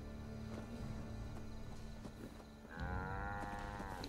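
Cattle moo once in a video game, a single drawn-out bellow rising over a steady background of game ambience.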